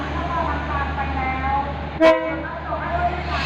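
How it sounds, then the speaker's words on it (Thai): Special express train No. 7 sounds one short horn toot as it departs Nakhon Lampang station in Thailand, a brief blast heard over a steady platform rumble and background murmur. "ตอนนี้ก็ได้เวลาปล่อยขบวนรถด่วนพิเศษขบวนที่ 7 นะครับ ออกจากสถานีนักขอนลำปางครับ"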